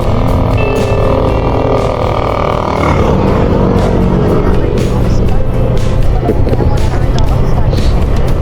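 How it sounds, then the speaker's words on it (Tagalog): Busy road traffic near an event, heard from a motorcycle, with a loud continuous rush of many vehicles passing close by and engine and road noise throughout; people talk over it. "Ang dami sasakyan."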